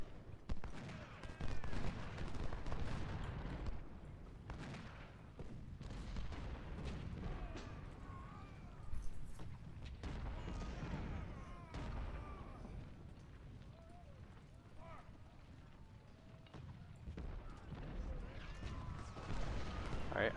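Musket fire from Civil War skirmishers at First Bull Run in a strategy video game comes as scattered distant pops and rumbling volleys under a continuous low battle din, with someone talking over it throughout.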